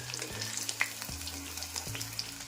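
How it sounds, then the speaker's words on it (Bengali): Soybean pakoras frying in oil over a medium flame, a faint crackling sizzle with scattered pops over a low intermittent hum, no voices. "আমি পকোড়াগুলোকে মিডিয়াম ফ্লেমে ভাজব"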